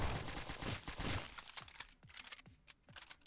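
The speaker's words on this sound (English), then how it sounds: "just shoot juggernaut down, reload, shoot again, keep shooting" Rapid gunfire in the multiplayer game Stick Warfare Blood Strike: a dense burst of shots up front, then separate sharp cracks spaced out at an uneven rhythm, close and fairly loud.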